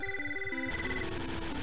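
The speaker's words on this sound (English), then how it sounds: "And of course the phone has to ring as usual." Pokemon Crystal's in-game phone ring sounds as short chiptune beeps, a stepped electronic melody that gives way to looping game music, all fairly quiet.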